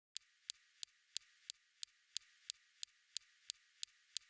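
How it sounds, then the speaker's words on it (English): The SuperCam laser on the Perseverance rover zapping a rock on Mars, heard as a faint series of about thirteen sharp, evenly spaced ticks, roughly three per second. "When we fire the laser from this telescope, it makes a zapping sound on the rocks."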